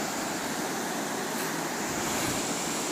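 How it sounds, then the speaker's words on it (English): A small waterfall in a gorge pours with a dense, constant hiss and roar, even and close, filling the scene without pause and without voices. "Another little waterfall. I think this is waterfall number 2"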